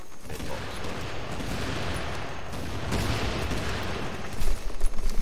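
Gunfire in The Division video game: a dense, continuous barrage of close shots forming a sustained roar, with heavier bursts near the end.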